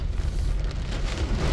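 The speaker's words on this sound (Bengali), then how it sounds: "বাতাসে বাইরে প্রচুর বাতাস, বৃষ্টি বাতাসে উড়ে উড়ে যাচ্ছে" Heavy rain driven by strong wind in Dubai, a dense, loud roar of pouring water and gusts heard continuously from indoors with no voices.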